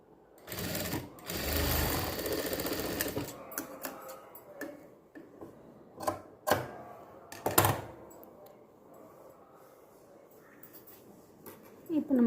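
Sewing machine stitching a stripe on a blouse back neck, short bursts of fast mechanical whirring separated by pauses and small clicks, fairly quiet, with someone speaking between runs.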